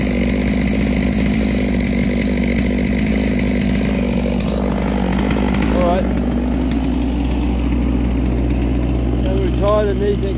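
A chainsaw fitted with a longer 0.063 tungsten chain cuts through wood, running loud and close with a continuous buzzing whine and rising pitch changes as the cut is made.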